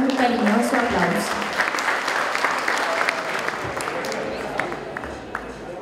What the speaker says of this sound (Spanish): Le recibimos con un cariñoso aplauso.